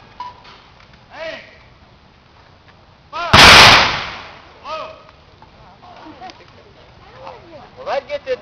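Civil War reenactors at a living history demonstration fire their rifles in a single loud, sharp volley that booms and trails off, with people talking before and after.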